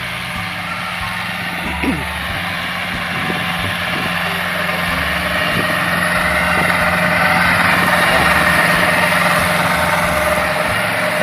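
A motorized tiller works a field being prepared for planting peanuts, its engine droning steadily and loudly throughout, with a faint voice underneath.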